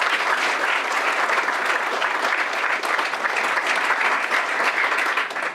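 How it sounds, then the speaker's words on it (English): Dense audience applause at a kollel grand opening, a steady wash of many hands clapping at even loudness throughout, close and full, with no voices over it. "you should give yourself a round of applause"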